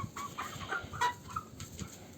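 Soft clucking from a few Amrox hens nearby, short scattered calls over a quiet background.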